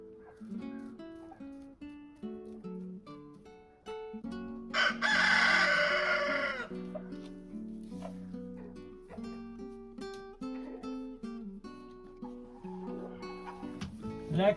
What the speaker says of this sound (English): The chickens are on cleanup duty.